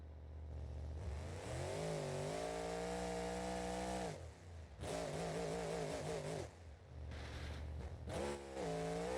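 Video game engine fitted with a 1071 blower revs hard in repeated rising bursts, each climb broken by a brief lift before climbing again, loud and close with no talk.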